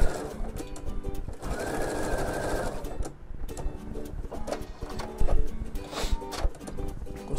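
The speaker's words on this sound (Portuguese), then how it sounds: "Vou lá na máquina. Baixo o pezinho. Ajeito bem certinho. E costuro de fora a fora" A sewing machine stitches a log cabin quilt piece in a rapid, close mechanical whir, starting and stopping between short runs, with light handling knocks around it.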